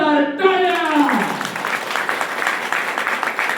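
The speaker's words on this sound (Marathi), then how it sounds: "जोरदार टाळ्या" A seated audience at a farmers' batch gathering in Nanded breaks into loud, dense clapping after a brief spoken line, the applause continuing steadily to the end.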